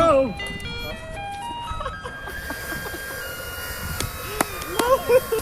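A Taiwanese yellow garbage truck plays its tinkling electronic melody, which sounds like an ice cream truck jingle, on a street. The tune is clear and close, with children's voices and brief speech over it.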